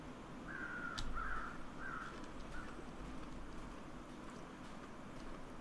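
Crows cawing in The Long Dark, a few harsh calls in quick succession early on, distant and faint over a low, steady wind-like rumble.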